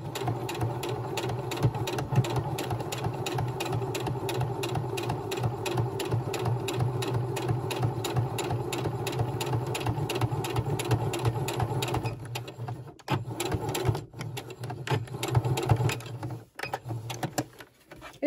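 A sewing machine stitches a fabric coin purse with a steady, rapid mechanical whirring chatter for about twelve seconds, then slows into short stop-and-start bursts while backstitching; no talking.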